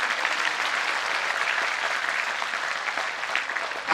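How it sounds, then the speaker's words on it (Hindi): Loud, dense applause from an audience at a Shrimad Bhagavat Katha religious discourse, steady clapping filling the whole stretch without a break and swelling slightly at the end. "जोर से ताली बजाओ।"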